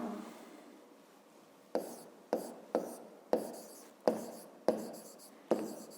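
A pen writes by hand on paper with a run of about eight short, crisp scratching strokes after a quiet opening. The strokes come close and clear at a brisk, uneven pace.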